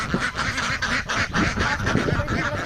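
Ducks quack and honk in a loud, continuous crowd on a duck farm, many birds calling over one another close by without a break.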